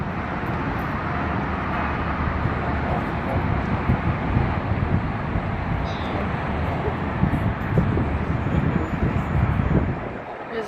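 Steady wind buffets the microphone outdoors near a parking lot and bridge, a constant loud rumbling roar that continues without a break and swamps anything else.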